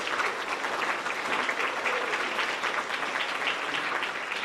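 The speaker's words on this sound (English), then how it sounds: "Big round of applause." Sustained applause from a crowd at a grades 4-6 school awards ceremony, steady and dense clapping throughout, with no pauses.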